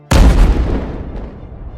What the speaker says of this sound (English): Batman accidentally activates a tripwire that triggers an explosion